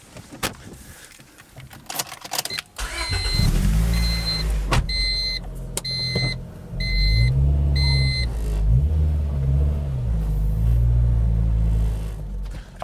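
A car engine idles and revs in low rumbling bursts as the vehicle creeps forward up onto the ramps of a Nussbaum Jumbo HF 7 scissor lift, with a high electronic chime beeping repeatedly over it.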